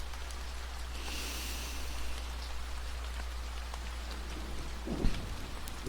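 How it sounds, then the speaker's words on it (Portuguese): Soft rain patters steadily on a surface, a quiet, even hiss with a low rumble beneath and a brief louder thump near the end. "Sinta a chuva."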